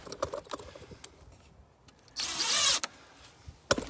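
A power drill drives screws into the frame of a hoop house built over a raised garden bed, giving one short, loud whirring burst amid small handling taps and clicks.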